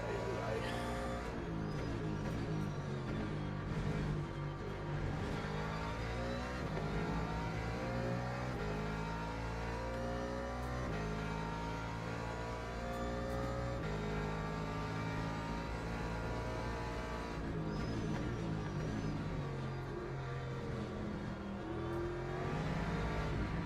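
Race car engines in Le Mans Ultimate roar and rev continuously, with a Porsche among the field, as pitch sweeps rise and fall through gear changes over a steady, loud drone.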